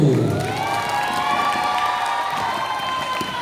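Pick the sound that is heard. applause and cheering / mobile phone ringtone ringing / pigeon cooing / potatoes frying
applause and cheering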